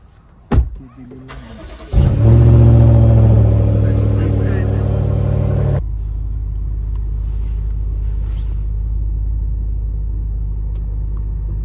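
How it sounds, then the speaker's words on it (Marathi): A BMW car engine cranks and starts nearby with a loud burst, revs briefly, then settles into a steady, lower idle as it warms up, running alone without talk. "गाडी चालू करून गरम करतो थोडी."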